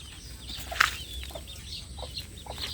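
Backyard chickens and their chicks cluck and peep softly at feeding time, with a brief flutter of wings near the start, all fairly faint and close.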